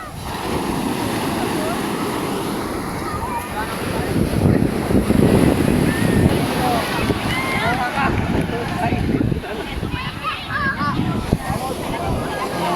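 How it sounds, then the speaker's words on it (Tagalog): Strong, rough sea waves surge and break steadily close by, mixed with gusty wind buffeting the microphone, while someone talks over the churning surf. "Ayan, malakas ang alon."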